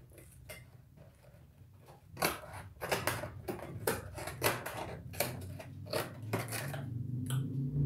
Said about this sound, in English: I don't really want to break the box all up. Let's try and cut it.